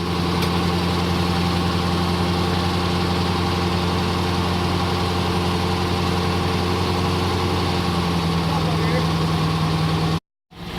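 A 1973 Rover P6 3500 V8 idles steadily at around 700 to 800 rpm just after starting on a newly reconditioned starter, a close, continuous low rumble with a constant throb and no talk over it, cutting out briefly near the end.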